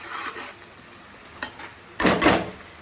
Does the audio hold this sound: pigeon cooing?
no